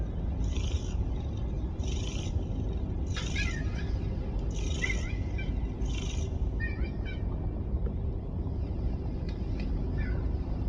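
A cat in the video game Nine Sols purrs in a low continuous rumble, with a series of short high meows and chirps over it, close and steady, no talking.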